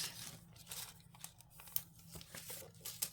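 Scissors snip through sheets of paper as a small mini kitchen and dining papercraft piece is cut out, giving soft crinkling and tearing sounds with a few sharp clicks over a steady low hum, close and fairly quiet.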